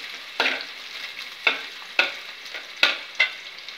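Onions frying and sizzling in a pan while cooking mushroom biryani, a steady close hiss broken by five sharp bursts as the pieces are stirred or tossed, with no voices.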